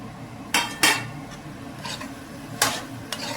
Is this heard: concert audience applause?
no